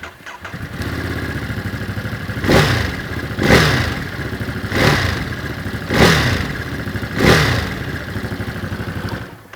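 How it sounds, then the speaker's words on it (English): Ducati Monster 937 engine, from the 2021 model, idles steadily and then revs in five sharp, evenly spaced blips before settling back to idle each time. The sound is close and loud, with no talk. "the Monster doesn't sound like any of its competition."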